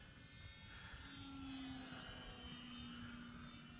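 A faint distant whine of an Arrows Trekker RC plane flying overhead, its small motor pitch shifting slightly as it banks, over a low outdoor breeze.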